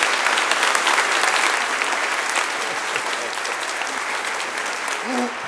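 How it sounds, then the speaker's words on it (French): Church congregation applauding bishops at a Father's Day service, steady dense clapping filling the space throughout, with a few voices and brief calls rising near the end. "on va les applaudir très très fort"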